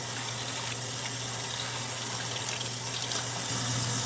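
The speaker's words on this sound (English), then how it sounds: "You always want to wash your hands in a circular motion." A faucet runs steadily into a sink during handwashing, an even, close hiss of water with a low hum beneath and no talking.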